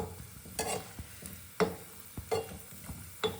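Onion karivadagam pieces fry in hot oil under a soft sizzle, while a spoon or ladle stirs them with repeated sharp scraping knocks against the pan.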